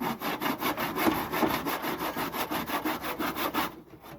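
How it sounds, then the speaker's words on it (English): Hand saw cutting through scrap lumber at an off-grid homestead, a steady series of rhythmic rasping strokes, close and fairly loud, continuing evenly until the sawing stops near the end. "it's a chainsaw or a hand saw like this"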